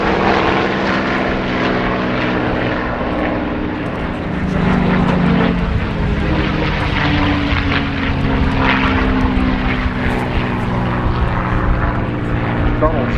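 A P-51D Mustang warbird at the Duxford Battle of Britain airshow runs its propeller engine in a loud, sustained roar, with an announcer talking over it throughout.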